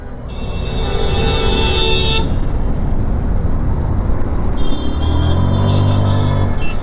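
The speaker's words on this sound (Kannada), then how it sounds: "ಆ್ಯಕ್ಚುಯಲ್ ಟ್ರಾಫಿಕ್ಕು, ಹಾರನ್ ಈ ಥರ ಕೇಳಿಸ್ತು" Steady traffic rumble with two long horn blasts from a Hero Xoom 125 scooter, one early and one near the end, sounding close over the engine noise.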